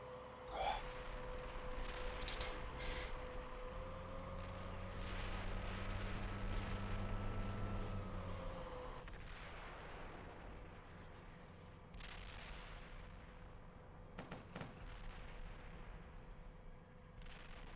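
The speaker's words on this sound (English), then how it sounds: "Is that you firing?" Gunfire in the tank simulator game Steel Beasts Pro PE: a sharp report near the start, then low sustained engine drone and tones, later scattered distant crackling shots and thuds, all fairly faint.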